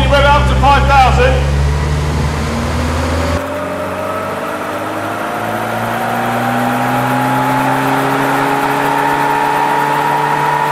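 A Classic Mini engine revs up and holds at about 5,000 RPM, its loud, steady mechanical drone rising in pitch after a brief burst of talk at the start.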